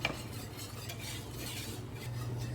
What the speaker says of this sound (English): So you are going to continue stirring just like before until it's at a full rolling boil